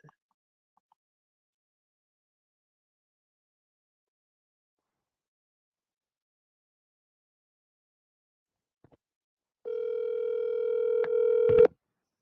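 After a long stretch of near silence, a telephone call gives a single steady electronic tone lasting about two seconds, clear and close, cutting off abruptly at the end.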